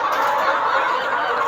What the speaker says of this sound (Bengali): যেমন এই যে একটা মুরগি ডিম পাড়ছে দেখেন